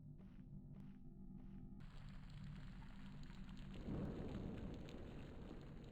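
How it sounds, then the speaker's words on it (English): A video game's rain effect plays as a steady, dense hiss of falling rain that swells louder partway through, with a few faint earlier tones and no voices. "I assume that sound that we're hearing is supposed to be rain."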